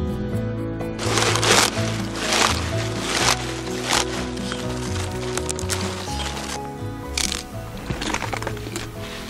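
Crisp napa cabbage heads being harvested in a frosty late-autumn field, giving repeated sharp crunching and snapping bursts, close and fairly loud, over a steady background.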